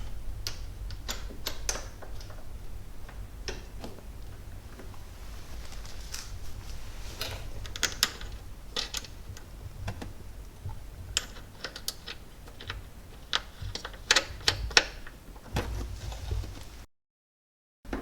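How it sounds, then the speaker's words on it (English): A wrench and then a ratchet tighten three 10 mm bolts on the pop-up headlight motor of a C5 Corvette. Close, dry ratcheting clicks come in irregular bursts, with a brief silent gap near the end. "These 3 bolts on the motor are 10 millimeter. That's the easiest way to do it, with a wrench and then a ratchet."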